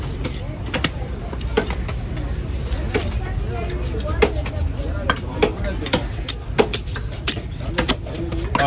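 Kola fish is chopped into thin slices at a busy Kasimedu fish-cutting stall, with quick irregular knife strikes on a board over constant market noise and talk nearby.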